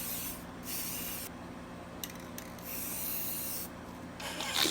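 A spray paint can hisses in several sustained bursts with short pauses between them, close and steady, with no talking.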